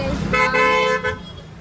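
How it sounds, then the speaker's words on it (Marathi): Car horns honk in road traffic, a few short blasts close by over a steady background of engines, with faint voices in the street. "ट्रॅफिक झालेली आहे."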